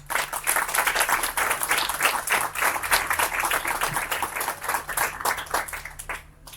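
Audience applause at a book presentation event for "La leyenda del pirata Moreque", dense steady clapping from many hands filling the room, fairly close, fading out at the end with no talk over it.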